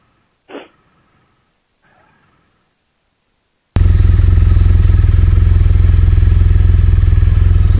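A motorcycle's engine kicks in abruptly and keeps running at a loud, steady idle after a quiet stretch that holds a brief thump and faint rustling as the rider mounts and selects gear.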